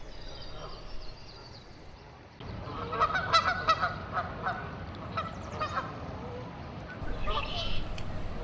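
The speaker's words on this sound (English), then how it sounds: "all he caught was an earful from some talkative geese." Talkative geese honking beside a river, a burst of repeated nasal honks after a quieter stretch of flowing background, with a voice talking over them.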